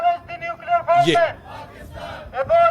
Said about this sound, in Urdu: یہ سن رہے ہیں یہ کس چیز کی نعرے بازی ہو رہی ہے؟